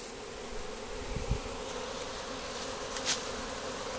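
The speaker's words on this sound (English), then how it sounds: "They're pretty docile when they're swarming because they're not protecting their hive." A swarm of honeybees being caught outdoors gives a soft, steady buzzing hum, fairly faint and continuous, with a couple of brief louder bumps.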